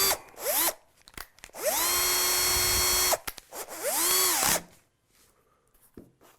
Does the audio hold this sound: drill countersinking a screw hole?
yes